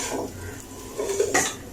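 Vermicelli (seviyan) fries slowly in a pan for milk sawaiyan and is stirred with a spoon. Brief scraping and clinks of utensil against pan sit over a soft background hiss.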